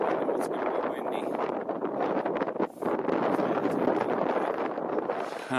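Strong wind buffets the microphone at an exposed Grand Canyon viewpoint along the Tanner Trail, a steady loud roar with gusts, dipping briefly midway and then surging back.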